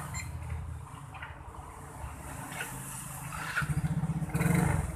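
A Yamaha Mio GT scooter fitted with an aftermarket alarm starts up, its small engine catching after a moment and settling into a quick, even idle thrum that grows slightly louder toward the end, close by.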